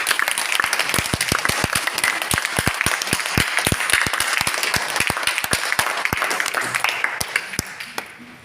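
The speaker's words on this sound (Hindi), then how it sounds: "सर के लिए जोरदार ताली।" An audience claps loudly for a speaker, dense sharp applause with distinct individual claps standing out, tapering slightly toward the end.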